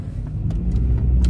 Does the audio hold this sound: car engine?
yes